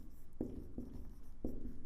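Pen or chalk writing out a linear equation for a class 10 maths lesson, a few soft scratchy strokes with short taps, fairly quiet and without talk.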